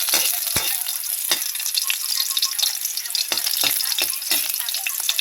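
Garlic sautéing in a pan for a bitter melon dish, a bright continuous sizzle close up, punctuated by several sharp clacks of a utensil stirring, with no talking.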